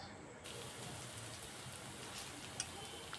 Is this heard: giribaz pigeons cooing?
no